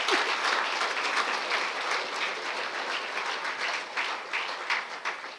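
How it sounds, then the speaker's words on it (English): A gala crowd in Aberdeen applauds the Lord Provost, a dense, steady wash of many hands clapping throughout at moderate loudness, with no voices over it. "You can keep on clapping"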